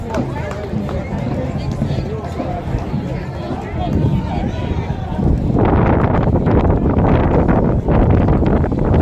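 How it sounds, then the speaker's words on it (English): Heavy wind buffets the microphone at a Memorial Day parade in Brooklyn, a continuous low roar that grows stronger midway, with voices partly audible beneath it. "And it is windy."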